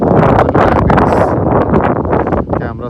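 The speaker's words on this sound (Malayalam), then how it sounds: "നല്ല തണുത്ത കാറ്റ് വീശുന്നുണ്ട്. ആ ഒരു കാറ്റിൻ്റെ സൗണ്ട് ഫീൽ ചെയ്യാൻ പറ്റും." Cool wind blowing across an island resort at Kumbalangi, a steady, loud rush of gusty air buffeting the microphone throughout with rustling texture and no clear speech.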